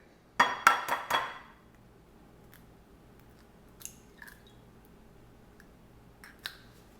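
Two eggs cracked two-handed for crispy chili crisp fried eggs, giving a quick cluster of three or four sharp shell knocks near the start, followed by faint scattered clinks against a quiet kitchen background.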